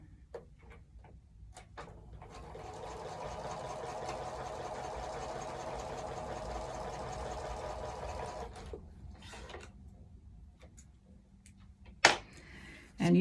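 A sewing machine stitching fabric strips, a fast steady whirring run of several seconds at close range, with scattered clicks and handling taps before and after and a sharp clunk near the end.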